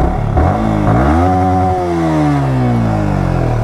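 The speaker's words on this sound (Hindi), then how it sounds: "बहुत टाइम बाद चला रहा हूँ ना बाइक।" Yamaha R15 V3 motorcycle engine revving up loudly and close, the pitch climbing steadily and holding high with a slight fall, continuous with no talking.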